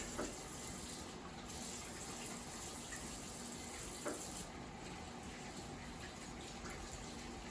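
Hands washed under a running kitchen tap while cooking, a faint, steady stream of water that runs continuously with a couple of small splashes and no speech.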